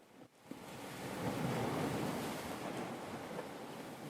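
A soft, steady ocean-like roar heard inside a conch shell, a faint continuous whooshing wash of noise that swells gently after a brief bump at the start and holds evenly, with no voices.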